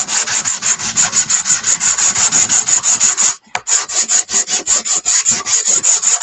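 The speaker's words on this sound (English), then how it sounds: "I do probably need to sand this one. If you are wearing earbuds, I'm sorry. I'm going to give it a slight sand." Sanding a painted 12-inch wooden door round by hand, a loud, close, rhythmic rasping of quick back-and-forth strokes with a brief pause midway, heard alone without talk.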